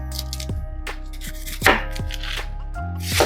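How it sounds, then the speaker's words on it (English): Collard greens and onion are roughly chopped for a white bean soup, with a knife hitting a cutting board in a run of irregular, fairly loud thuds and scrapes. Nobody speaks. "Just give it a rough chop."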